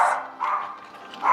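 Dogs bark in a home kitchen while green chili con carne is being cooked, three short sharp barks spaced across a brief moment, fairly close and clear with no talk over them.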